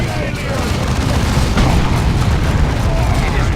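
A grenade blast in the Dawn of War 2 strategy game: a loud, dense, sustained roar of explosive rumble that fills the whole clip with no pause.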